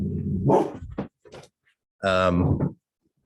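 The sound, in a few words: dogs barking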